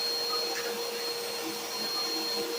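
Household vacuum cleaner running indoors, a steady whining motor drone with a constant high tone, continuous and fairly close.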